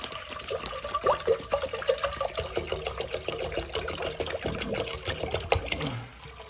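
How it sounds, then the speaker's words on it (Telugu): Two litres of water poured into a pot for rice while preparing chicken dum biryani, a steady trickling, splashing pour lasting several seconds before it tapers off near the end. "2 లీటర్ వాటర్ వేస్తాం."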